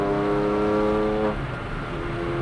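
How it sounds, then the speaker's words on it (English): A Porsche 996 with a 4.1-litre engine revs hard under throttle, a loud sustained roar with rising harmonics that drops in pitch as the throttle eases. "when you step on the throttle, it's just beautiful sound"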